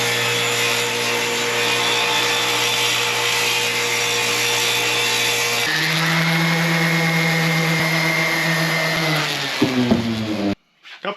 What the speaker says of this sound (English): let's trim it up on the table saw